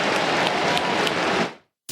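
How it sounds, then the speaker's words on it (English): Cricket crowd at an Ashes Test between England and Australia applauding in a loud, steady roar of clapping that lasts about a second and a half, then cuts to silence before a brief new sound. "Hear the crowd."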